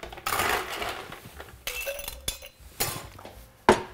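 Ice cubes clinking and clattering into a glass while a Snowball cocktail with advocaat is being made, with several sharp, close clinks and rattles spread across the moment and a brief bright tap near the end.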